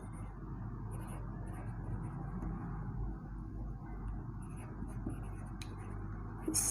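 Writing on a board, faint scratchy strokes in short bursts, steady under a low background hum, with no talking heard.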